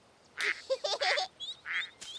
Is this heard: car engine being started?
no